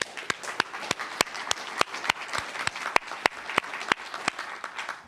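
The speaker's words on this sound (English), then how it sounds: "a round of applause" Conference attendees give a round of applause at a summit for overseas voters, a moderate wash of clapping with regular sharp claps punctuating it, steady across the room.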